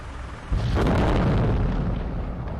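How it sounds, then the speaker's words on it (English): A sudden loud drone-strike blast on Russian thermobaric weapons, with a deep rumbling boom that rolls on and slowly fades, heavy low-end roar filling the rest of the clip. "resulting in a massive explosion."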